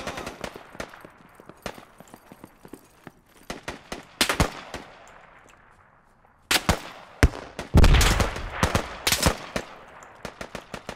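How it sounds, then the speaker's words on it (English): Gunfire in the military shooter game Squad on the Hilltop Holdout map: scattered sharp single shots and short bursts, some distant and some close and loud, clustering into heavy rapid fire midway, with no voices over it. "I'm taking fire, I'm taking fire."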